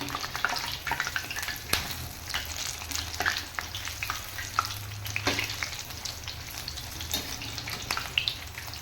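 Onion bajji fritters fry in hot oil while being flipped, a steady close sizzle punctuated by sharp clicks and scrapes of the turning utensil.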